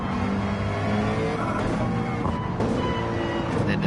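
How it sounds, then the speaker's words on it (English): McLaren twin-turbo V8 in a racing video game, droning steadily at high revs, its loudness nearly constant, with a couple of brief bumps in the tone near the end. "Twin turbo V8 of the McLaren,"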